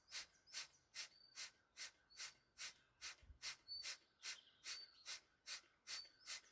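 Rapid yoga breath of fire: about thirteen sharp, evenly spaced breaths in a steady rhythm, close and soft, alone with no talking.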